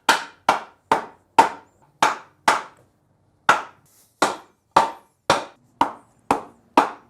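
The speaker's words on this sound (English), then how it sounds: "we can hit this with a hammer and some wood" A hammer strikes a wooden block in sharp, evenly spaced knocks during a BMW X5 engine rebuild, about a dozen blows with a short pause midway, close and clear.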